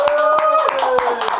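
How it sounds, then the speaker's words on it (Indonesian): Hand clapping welcoming a guest onto a podcast, several close, fairly loud claps in a steady rhythm under a sustained tonal background, with brief talk mixed in. "Tepuk tangan."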